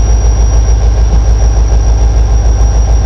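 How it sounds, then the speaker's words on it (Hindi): Train pulling into Rohri Junction railway station, a steady loud rumble of wagons and engine with a constant low drone and faint rhythmic clatter throughout, no voices. "पूरे 10:12 पर पहुंची है ट्रेन रोड़ी जंक्शन रेलवे स्टेशन पर"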